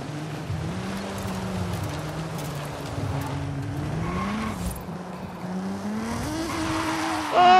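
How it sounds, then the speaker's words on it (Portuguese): A Nissan 350Z drifting in Forza Horizon 5, its engine droning and shifting pitch under a steady tire hiss, with a sharper squeal rising near the end. "O barulho do pneu mudou, ó."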